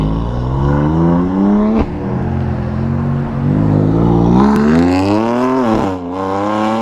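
Ducati Panigale motorcycle revving hard and accelerating, its engine note climbing through several quick gear shifts, loud and close throughout with no talking.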